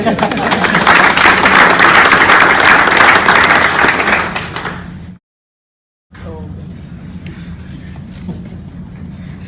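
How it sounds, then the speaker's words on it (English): A crowd at a police explorer academy graduation breaks into a loud, dense round of applause that cuts off abruptly, followed by a short silence and then quieter room sound with scattered voices. "So let's give her a round of applause."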